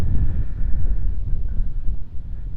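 Steady wind rumbles and buffets a microphone outdoors at a curling match as a storm cell blows in, a low roaring gust that persists throughout with no voices.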